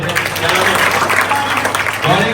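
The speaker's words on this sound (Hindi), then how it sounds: "जोरदार तालियां।" Loud, dense applause comes from an audience of children at a session on children's eye problems, a sustained burst of clapping throughout.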